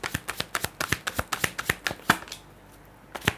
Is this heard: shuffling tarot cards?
yes